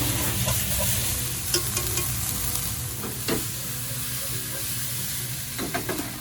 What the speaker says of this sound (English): let's start with the green pepper, also the green beans, the mushroom, shiitake mushroom. Mix them well.